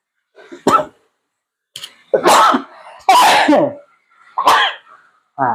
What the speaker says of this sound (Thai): ต้องจามก่อน ถ้าจามนี่อร่อยละ